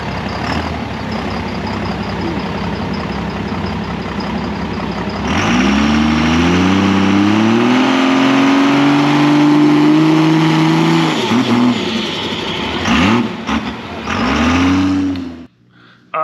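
An AWD car on a track idles with a rough rumble, then revs hard from about five seconds, its engine note climbing and holding loud before dropping in a few sharp throttle blips and cutting off near the end.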